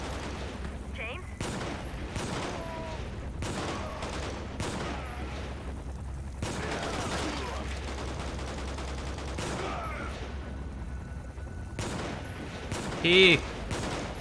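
Gunfire in the PC video game Quantum of Solace, repeated bursts of shots in a fusillade spread across the clip, mixed with game sounds and someone talking over it.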